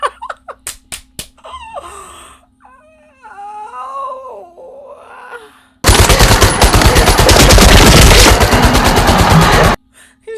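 Dense, loud burst of gunfire and bomb blasts from the climax of the war film Inglourious Basterds, roaring continuously for about four seconds after a wailing, laughing voice.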